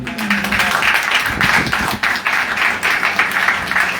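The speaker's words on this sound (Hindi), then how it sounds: "आइए जोरदार तालियां बजाएं" Loud congregation applause at a church gathering, a dense continuous wash of many hands clapping close and steady throughout, with a brief low voice at the very start.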